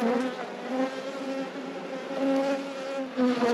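A dense, steady drone of honeybees buzzing around an open hive during a colony inspection, close and continuous, with no talk.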